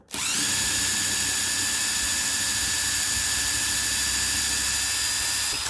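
A power tool spins a socket on a brake caliper guide pin of a 2009 Subaru Forester during rear brake work, a loud steady whine held for several seconds, close and uninterrupted.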